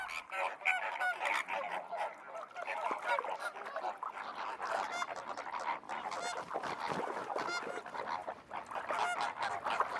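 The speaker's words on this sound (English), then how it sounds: "Flamingos are very sociable birds." A flock of flamingos in spring calls continuously with loud, nasal honking cries that overlap in a dense, steady chorus without pause.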